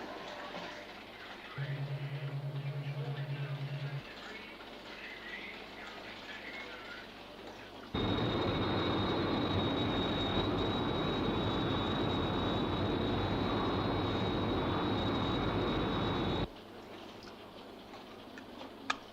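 A Sky 1 interceptor aircraft flies with a steady, loud jet roar that starts abruptly, holds for several seconds, then cuts off, preceded by faint ticking and a brief tone.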